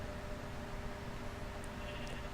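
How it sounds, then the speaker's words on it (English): A sheep bleats quietly inside a video game, a short animal call over a soft, constant background hum. "Dale's doing fine. He's a happy sheep."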